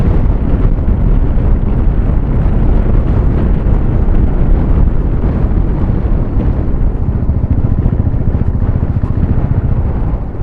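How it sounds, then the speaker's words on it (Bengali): Strong stormy wind roars steadily on a mountain road in Ladakh during a motorcycle trip, a loud, dense, continuous buffeting rumble close to the microphone with no pauses. "এত ঝড়ো হাওয়া চলছে না"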